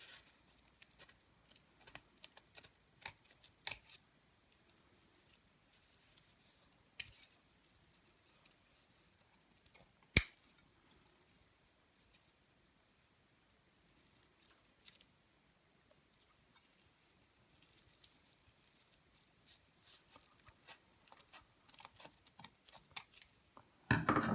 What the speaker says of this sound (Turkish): Daha sonra makasımızla bu katlı yerlerini kesiyoruz.